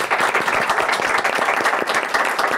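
A studio audience applauds the singer at a show finale, giving a continuous, even burst of many hands clapping close by, with no voices heard.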